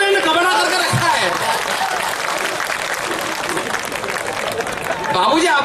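Audience applause at a Hindi live comedy show, a dense, steady wash of clapping that runs unbroken throughout and swells again near the end, loud and close with some crowd noise mixed in.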